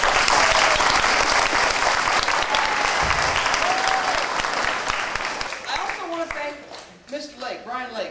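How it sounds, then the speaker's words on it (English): A round of applause from an audience at a school arts residency event, dense clapping that carries on for several seconds, then thins into scattered claps while people talk over it near the end. "Let's give them a big round of applause."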